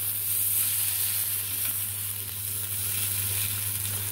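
Fish tikka on a stick cooks over heat with oil, a steady close sizzle with a low constant hum underneath.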